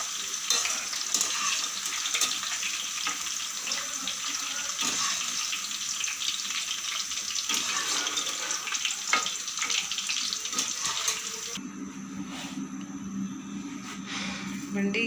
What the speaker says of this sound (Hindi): वो इसी के अंदर फ्राई हो रही है। ये देख सकते हैं आप, हमारी भिंडी फ्राई हो गई।